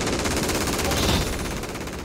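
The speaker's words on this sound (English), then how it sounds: "You're really shooting at me?" Rapid automatic gunfire in a first-person shooter video game rattles continuously and loudly for a couple of seconds, a dense burst of shots close up.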